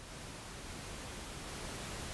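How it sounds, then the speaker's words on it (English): Steady pink noise test signal routed through a Behringer Wing digital mixer, a constant even hiss with no change or pauses throughout. "pink noise sounds kind of like this."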